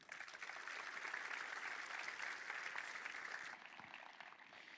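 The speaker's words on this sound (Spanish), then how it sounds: "Un aplauso." A conference audience applauds at a security talk, a steady dense clapping that lasts a few seconds and then fades to a quieter tail.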